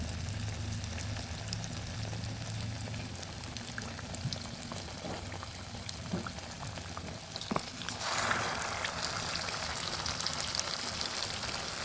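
Pumpkin leaf rolls lowered one at a time into hot oil: continuous close bubbling and crackling that swells into a louder, fuller sizzle toward the end, with no talking.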